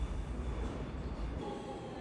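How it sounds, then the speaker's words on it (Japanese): A New York train heads toward the airport, heard from inside the car as a steady, heavy rumble with a dense low roar and no distinct clicks or voices. "帰りは電車で空港に向かいます"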